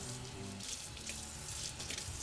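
Tap water runs steadily into a bowl of flour in a kitchen, a soft continuous hiss and splash heard alone, faint and close.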